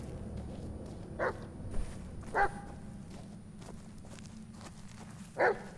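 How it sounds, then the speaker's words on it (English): A few short, distant dog barks in the video game Blair Witch, spaced out over a steady low background hum, with no talking. "I hear him. Where is he barking from?"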